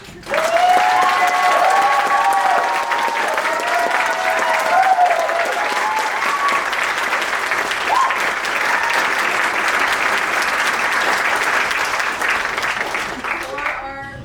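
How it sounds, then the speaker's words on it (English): Enthusiastic applause from the audience at a student senior showcase, loud sustained clapping from a packed room with cheers and whoops over it, carrying on for over ten seconds before thinning out. "Let's give them a special round of applause."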